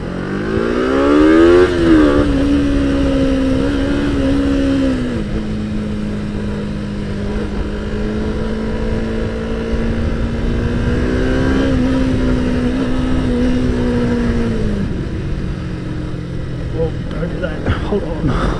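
A Kawasaki ZZR 250 motorcycle in need of work revs and pulls on a test ride, engine pitch rising through gears then holding a steady drone, close and loud, with a rider talking over it.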